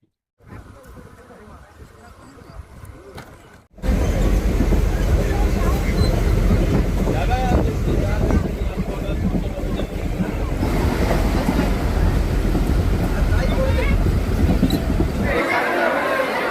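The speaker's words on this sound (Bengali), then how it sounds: "এবার এই লোকাল ট্রেনের জার্নিটাও দেখি" A local train runs on the line from Nachinda toward Digha: a quiet stretch gives way to a sudden, loud, steady broadband rumble and rattle that persists, easing slightly near the end.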